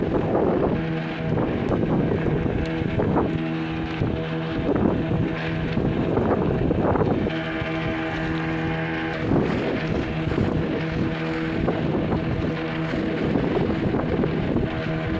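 The engine of a fishing boat drones steadily as the boat moves at sea off Honnavar, with rushing wind across the microphone throughout. The sound is continuous and close, with no speech.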